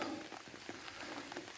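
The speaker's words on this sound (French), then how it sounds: "Avec la pluie." Rain falls steadily at night beside a carp-fishing spot, a dense, even patter and hiss with scattered louder drops, close and continuous.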